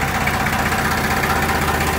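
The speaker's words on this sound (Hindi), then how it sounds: "हमारा ट्रैक्टर स्टार्ट हो गया।" A tractor engine idles just after starting, a steady, loud, close chugging rumble with an even mechanical rhythm and no talk over it.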